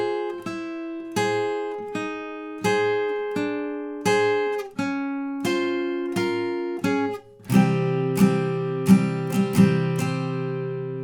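An acoustic guitar plays the intro of a song, with clear, evenly spaced chords ringing out one at a time before the strumming grows fuller and denser toward the end.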